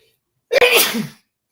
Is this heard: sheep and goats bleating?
no